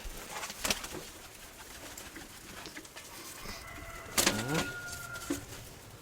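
Domestic pigeons cooing inside a loft, soft low burbling calls scattered through a quiet room, with a couple of brief louder bursts of wing flutter or scuffling near the end.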